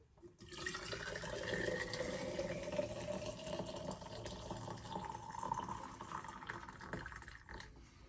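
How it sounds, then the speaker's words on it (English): Water pours steadily from a kettle into a container, a continuous splashing, gurgling fill that runs loud for about eight seconds before easing slightly toward the end. "I'm going to fill that up with water"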